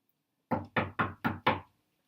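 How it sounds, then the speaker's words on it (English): Five sharp knocks on a door in a quick, even rhythm, close and distinct, followed by silence. "Who knocks on thy door?"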